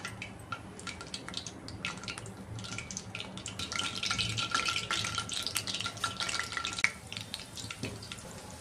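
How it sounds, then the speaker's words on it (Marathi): Modak dumplings deep-fry in oil over a low flame, giving a faint, continuous bubbling crackle that swells slightly midway before easing off. No one speaks. "मोदक तळताना फ्लेम लोच ठेवायचे"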